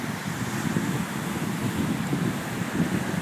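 Ocean waves wash in at Laie beach, a steady roar of surf mixed with wind buffeting the microphone, loud and continuous with no voices.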